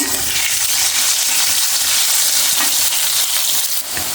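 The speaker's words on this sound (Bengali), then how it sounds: "এখন আলুগুলো ভেজে নিব" Potatoes fry in hot oil in a wok, giving a dense, steady sizzle that stays loud and close throughout with no talking.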